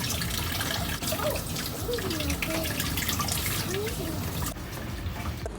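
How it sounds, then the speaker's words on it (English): Mushrooms being washed under a running kitchen tap, a steady close splashing stream of water that continues throughout, with faint voices underneath. "I just run them underwater and wash them anyways"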